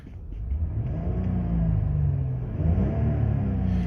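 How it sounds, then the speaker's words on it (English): A 2006 Lexus IS250 six-cylinder engine revs up from idle into a deep, smooth rising roar, eases briefly, then climbs again, close and loud. "let me just give it a quick rev for you"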